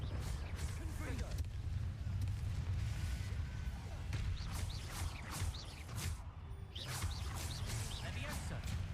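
Fire spell blasts cast repeatedly in a Hogwarts Legacy wizard battle, loud booming bursts layered over dense game combat noise and a continuous low rumble, with a player talking throughout.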